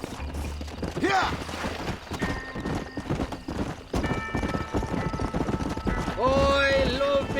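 A horse gallops in the Red Dead Redemption video game, its hooves clip-clopping in a fast, steady rhythm close by, with a whinny near the end and voices speaking over the hoofbeats.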